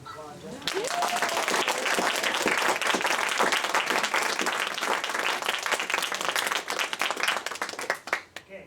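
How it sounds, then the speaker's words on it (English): Dense applause from a school audience at a fourth-grade elementary debate starts suddenly and holds as a thick wash of many hands clapping, then thins into scattered claps near the end, with faint voices mixed in. "I think we deserve a round of applause."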